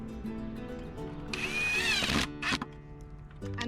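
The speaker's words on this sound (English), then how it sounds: "Put it on the end of your drill and screw it in place." A power drill drives a screw into wood while an insect house frame is assembled: one loud whining burst of about a second, with a shorter whir right after and quieter workshop noise around it.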